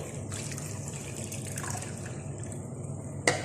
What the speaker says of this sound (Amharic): ውሃ ጨምርበታለሁ